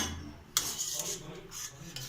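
Cooked shark fish being tipped into a wide cooking vessel, heard as a clatter of metal and a scraping that starts abruptly partway through and carries on intermittently, close and fairly quiet.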